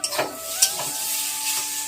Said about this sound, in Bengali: সবজিটা কড়াই কষছি